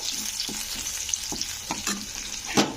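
Garlic frying gently in a pan over low heat gives a steady close sizzle and crackle, with a few soft stirring scrapes along the way.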